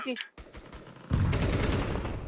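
Rapid automatic gunfire in the video game Counter-Strike 2, a dense, loud burst of shots kicking in after a brief voice and continuing without pause to the end.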